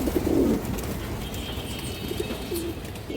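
A pair of pet pigeons coos close by, with low, throaty rolling calls repeating over a steady background hum and no talking.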